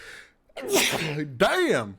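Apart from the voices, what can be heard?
sneeze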